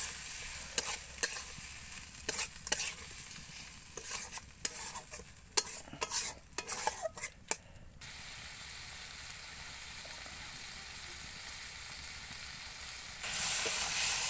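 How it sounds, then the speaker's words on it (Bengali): Bottle gourd greens stir-fried with prawns in a pan: a spatula scrapes and knocks repeatedly for several seconds, then a steady sizzling hiss continues alone, swelling louder near the end. "এরপর দিয়ে দেবো কেটে রাখা লাউ শাক দিয়ে একসাথে কষে নিতে হবে।"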